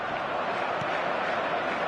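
A stadium crowd in the eFootball video game gives a dense, steady roar at Manchester United's home ground after an early goal, loud and constant throughout without any break.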